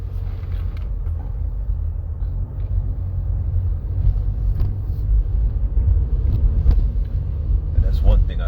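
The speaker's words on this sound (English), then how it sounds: "So we in the traffic now." A car moving through road traffic, heard from inside as a steady low engine and road rumble throughout, with faint voices and small knocks over it.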